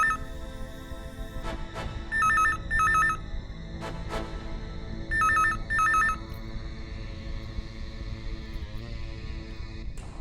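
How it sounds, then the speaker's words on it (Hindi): A telephone rings in two pairs of electronic trilling bursts with a pause between the pairs, over a steady background hum of dramatic scoring in an office scene. "अब अगर फोन आए तो तुम उठाना।"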